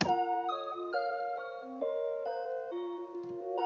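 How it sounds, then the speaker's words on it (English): Bright synth notes play a bouncy stepping melody with layered harmonics, steady and clear, no talking. "Then I added this synth."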